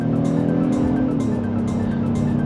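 Inside a 2022 Honda Passport EX-L with its 3.5L V6 and front-wheel drive, the engine drones steadily under acceleration, the tone rising slightly as VTEC engages, heard continuously with road noise and no talk.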